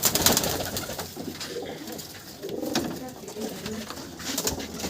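High-flying pigeons of Teddy, Kamagar and similar breeds coo softly at close range, a low murmuring burble under faint background noise, with a voice speaking briefly.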